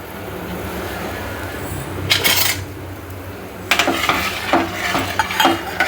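Grated coconut being stirred into a pot of black urad dal rice, with scraping spoon-against-pot clatters in short bursts over a low steady simmer, no voices.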